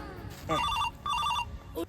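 A telephone rings twice in short electronic trilling bursts, fairly faint against a quiet room.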